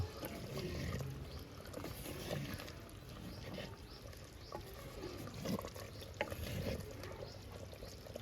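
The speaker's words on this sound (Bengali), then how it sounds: "মাংস দেখুন ফুটতে আরম্ভ হয়ে গেছে একদম হালকা হালকা আগুনে" Chicken simmering in its own juices over very low heat for pudina handi chicken, a faint continuous bubbling and gentle liquid burble with a few soft clinks.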